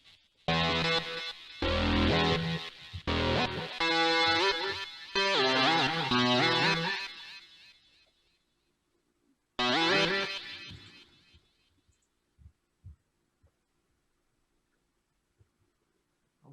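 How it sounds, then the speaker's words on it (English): Notes are played live on a Korg Minilogue synthesizer, bright sustained chords with a distorted, effect-laden tone in two loud phrases, fading out with echo, then faint clicks and near silence. "This is a Korg Minilog. And I'm actually playing in notes."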